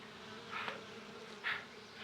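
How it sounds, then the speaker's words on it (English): Two short bursts of buzzing killer bee wings, like bees flying past close by, separated by a brief pause over a faint steady hum. "Killer bees are attacking from Mexico."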